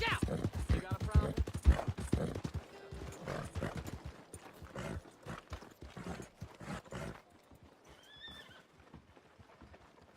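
Horse hooves clip-clopping in Red Dead Redemption 2, with a whinny early on, the rhythmic clopping close and loud at first and then thinning out, with game voices talking over parts of it.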